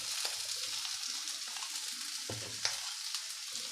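Orange peel sautéing in a pan for a Tamil-style orange peel pachadi, a steady close sizzle with a few sharp crackles and a stir or two, and no talking.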